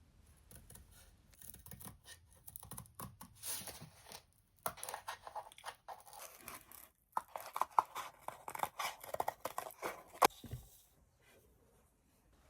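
Scissors snip irregularly at close range while someone cuts out craft pieces for a doll's star accessory, with light rustling and tapping between cuts.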